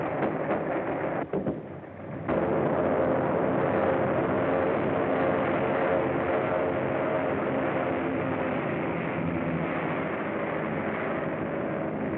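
A vintage airplane drones steadily through a getaway scene in a 1930s adventure serial, a loud, sustained engine roar that swells after a brief dip and holds on without talk.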